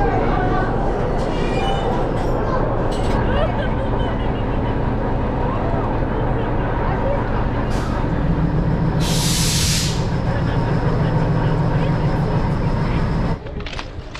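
The Ooty to Coonoor hill train rolls in with a steady, loud rumble and a constant mechanical clatter. A bright burst of hissing steam or air cuts in partway through, and a voice talks over the train noise.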